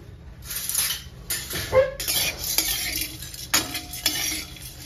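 Flour for chakli dry-roasted in a pan, with a spoon scraping and stirring in repeated strokes and occasional light metallic clinks, close and fairly loud.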